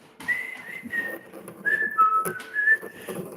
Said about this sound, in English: she think I'm whistling for her